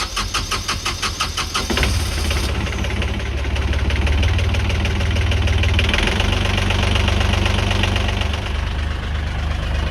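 The diesel engine of a Hallberg Rassy 352 sailboat cranks with a rhythmic chugging, then catches and runs at a loud, steady idle with a rough, knocking throb, close by and with no talking.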